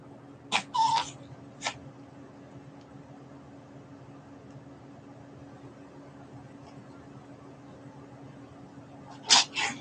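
A few short, sharp sneezes from a small animal, one early, another shortly after, and two more near the end, over a quiet steady hum.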